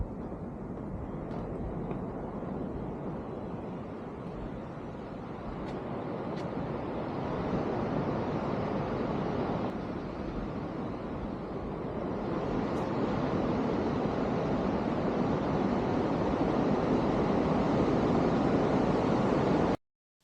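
Ocean surf and wind at a high coastal viewpoint on Madeira, a steady broad roar of distant waves and gusting air that swells louder in the second half, with no talking.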